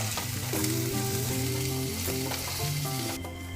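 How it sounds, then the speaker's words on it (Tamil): Chopped onion fries in a pan for a green mango and jaggery pachadi, giving a steady soft sizzle under tuneful background music. "வெங்காயம் நம்மளுக்கு நல்லா ஃப்ரை ஆகிடுச்சு"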